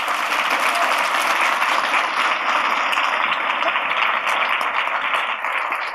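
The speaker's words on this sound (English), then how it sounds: "So a round of applause for them as well." Audience applause for award winners at the 2016 MasterCard Foundation Clients at the Centre Prize ceremony: a sustained, dense wash of clapping from a large crowd that stays loud and even for several seconds.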